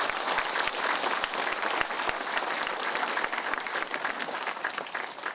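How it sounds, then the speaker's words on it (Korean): A lecture audience bursts into sustained applause, dense clapping from many hands filling the hall steadily for several seconds without pause. "좋은 강연 해주신 박상철 교수께 다시 한번 큰 박수 부탁드립니다"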